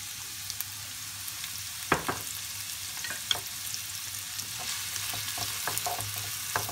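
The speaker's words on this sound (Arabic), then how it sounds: "غادي ندير البصله، غادي نديرها تشحر" Chopped onion fries in a mix of table oil and olive oil, a steady soft sizzle with a few faint stirring clicks, fairly quiet and continuous, with no voices.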